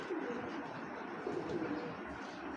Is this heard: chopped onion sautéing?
no